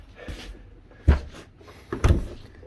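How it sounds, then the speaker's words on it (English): RV bathroom door being worked, three separate knocks and thumps of a thin panel door opening and closing nearby, the last two louder, with quiet gaps between. "The door."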